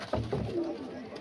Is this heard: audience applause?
no